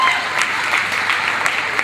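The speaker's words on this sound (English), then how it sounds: "Once again, a round of applause for Derek DeJager, our music man" A crowd applauds steadily, a dense wash of clapping hands that stays even throughout.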